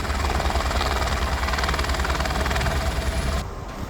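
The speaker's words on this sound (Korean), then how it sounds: "다친 대원을 카트만두 병원으로 이송하기 위해 헬기가 도착합니다." A rescue helicopter arriving in the Himalayas to carry an injured expedition member to hospital in Kathmandu throbs loudly and continuously up close, its rotor and engine roar easing slightly near the end.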